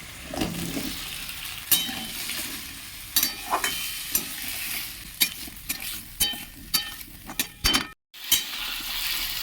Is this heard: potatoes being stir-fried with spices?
yes